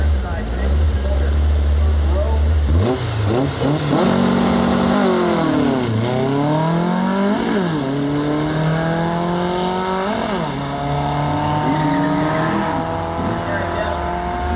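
Pro Mod car making a drag strip pass at a Texas Volkswagen Drag Racing Association event at XRP: a loud engine launches and revs, rising and falling through several gear changes, with a track announcer talking over it.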